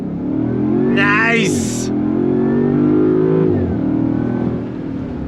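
A 2024 Land Rover Defender 110 Carpathian Edition with a supercharged V8 accelerates hard on throttle. The engine roars and climbs through the revs, then eases off, with a brief spoken remark over the noise.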